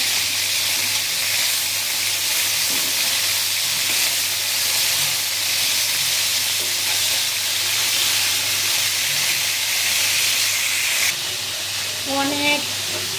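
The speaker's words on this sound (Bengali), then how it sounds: "আমি ফাঁকে পেঁয়াজ ভেজে নিচ্ছি" Onions frying for chicken biryani, a loud continuous hiss and sizzle of oil close by that runs steadily for several seconds, with brief muffled talk near the end.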